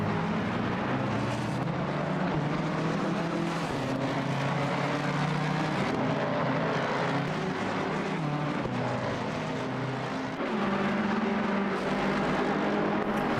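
GT3 race cars in Assetto Corsa Competizione drive into the pits with a steady loud engine drone that rises and falls a little throughout.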